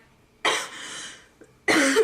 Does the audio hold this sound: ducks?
no